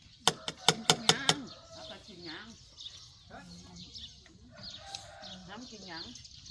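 Chickens cluck and call in a burst of sharp, rapid notes near the start, followed by scattered fowl sounds mixed with nearby talk and household background.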